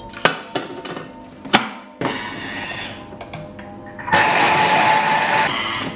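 A kitchen blender starts and stops in short bursts on eggs, natural yogurt, red lentils and olive oil, then settles into a louder continuous whirring grind, with a few sharp clicks and knocks in between.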